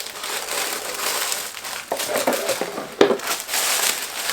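Tissue paper inside a Gucci Marmont belt box crinkles and rustles as it is unwrapped during an unboxing, a steady close papery crackle with a sharper crunch near the end, no talking.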